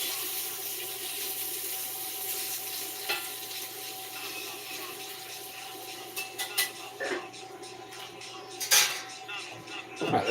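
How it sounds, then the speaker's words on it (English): Dishes, pots and pans being washed under a running kitchen tap, with a steady wash of water and scattered clinks and clatters of cookware growing busier toward the end. "let's knock these dishes out so we can have bowls to plate into"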